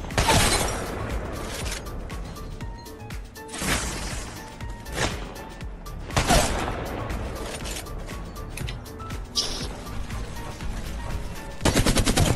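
Rapid gunfire from a Kraber sniper rifle and other weapons in the video game Apex Legends, loud sharp cracks and bursts spread across the clip with crashing impacts in between.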